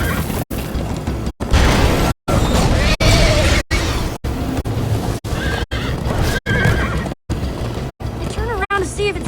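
A horse galloping and neighing in Minecraft Story Mode, loud whinnies and thudding hooves in choppy bursts split by brief silent gaps, with voices talking over parts of it.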